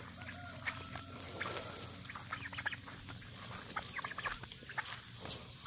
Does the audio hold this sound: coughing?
no